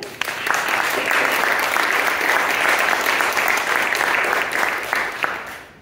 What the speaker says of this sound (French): Je propose d'applaudir notre panel